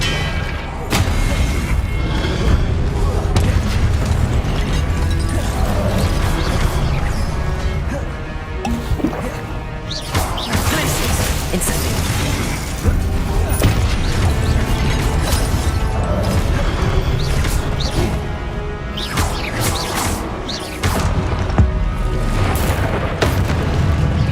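Confringo fire-spell blasts in the game Hogwarts Legacy burst repeatedly among other spell effects, loud booms and crackling impacts layered over a dense, continuous wash of battle sound and music.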